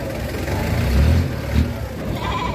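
Goats at a livestock market in the Philippines let out a low, drawn-out bleat that swells and fades over a couple of seconds. Steady background rumble from nearby engines and activity continues throughout.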